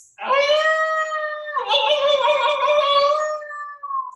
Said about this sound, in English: Oh, that howling.